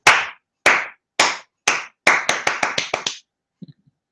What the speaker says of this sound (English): Clap along.